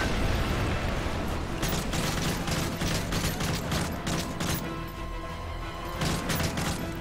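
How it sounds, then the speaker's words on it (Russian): Gunfire in the video game Call of Duty Modern Warfare 3 comes in dense, repeated bursts over a constant loud background of battle noise, with no pause across the whole stretch. "Откуда стреляют-то?"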